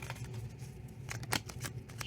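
Soft, close papery riffling and quick flutters of tarot cards being shuffled quietly.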